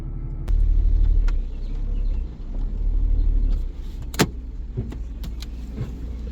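A SMART Fortwo's small engine idles while warming up, a close, steady low rumble that surges and dips, with a few sharp clicks and knocks from the car toward the end and no talking.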